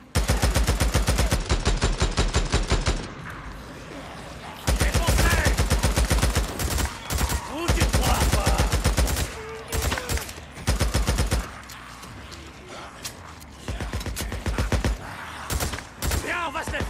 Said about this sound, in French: Fais pleuvoir les balles en continu.